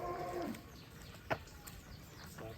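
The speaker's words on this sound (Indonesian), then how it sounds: "Sapi monster terlucu di Kandang Perdalaman" A cow in a pen at a rural farm moos once, a brief low drawn-out lowing near the start, then fades into a steady background hiss and soft farmyard noise.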